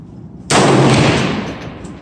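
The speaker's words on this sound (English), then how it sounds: "The second shot without the stabilizer." A single rifle shot from a TC Compass in 6.5 Creedmoor fired without a barrel stabilizer, a sharp loud crack followed by a fading outdoor boom and echo.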